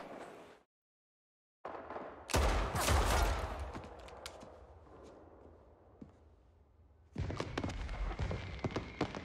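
Rifle fire from the Saints Row video game: bursts of loud, rapid shots after a brief silent gap, a dense volley, then a quieter stretch before another burst of firing.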